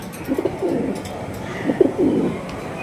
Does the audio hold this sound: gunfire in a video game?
no